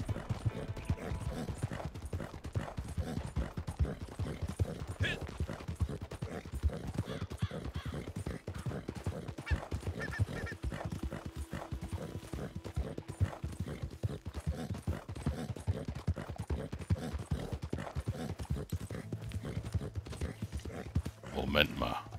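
Horse hooves clip-clop steadily while riding in Red Dead Redemption 2, a continuous rhythmic trot heard throughout alongside someone talking, with a brief neigh.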